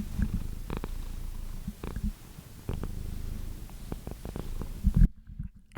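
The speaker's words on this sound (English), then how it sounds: "I wanted to get a little snippet of her purring." A cat purrs in a low, steady rumble close by, broken by soft clicks and shuffles, quiet with no talking.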